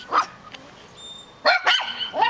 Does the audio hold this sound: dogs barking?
yes